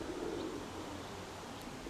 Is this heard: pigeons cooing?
yes